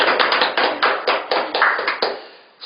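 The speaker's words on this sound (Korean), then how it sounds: "네, 박수." A short burst of hand clapping from an audience at an interview event, a dozen or so sharp claps in quick succession that stop abruptly, heard alone without talk.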